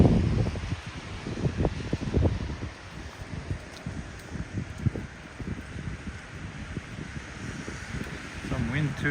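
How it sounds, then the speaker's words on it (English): Low, gusting wind rumbles against the microphone on and off on a rainy evening street in Mizonokuchi, Kawasaki, Japan, with faint voices and rustling in the background. "Some wind too, yeah, it's a bit windy."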